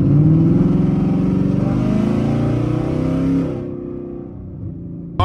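A car with custom budget race exhaust dumps accelerating down a straight street, giving a loud, raspy rising drone close by that drops off sharply after a few seconds to a quieter rumble.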